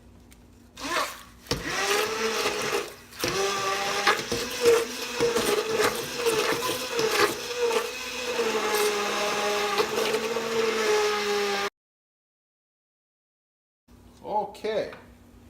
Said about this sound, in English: We're going to use the immersion blender.